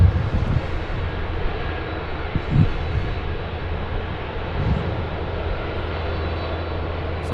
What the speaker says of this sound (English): Saab 340 getting away nicely there.